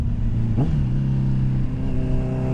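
A 650R sport bike fitted with a Dominator exhaust idles with a steady, throaty rumble, then gives one quick rev that rises and drops back to idle, close and loud.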